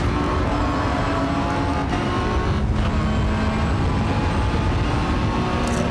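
GR Motorsport BMW race cars with huge horsepower roaring through an endurance race, a loud sustained engine drone with rising and falling revs as cars pass close by.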